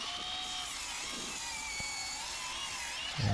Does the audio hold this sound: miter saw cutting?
yes